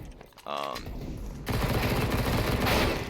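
A Desert Eagle pistol fires in a video game, with a quick burst of loud, close gunshots and rapid crackling fire that persists throughout, heavier in the second half; a voice is faintly present beneath.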